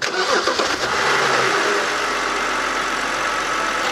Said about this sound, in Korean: 한번 시동을 한번 일단 걸어가지고 엔진 상태를 한번 확인해 볼게요